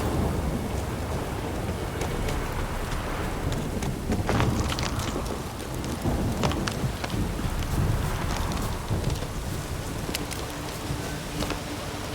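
Steady heavy rain hisses throughout in The Witcher 3: Wild Hunt video game while low rumbles of thunder roll in and out, with no one speaking.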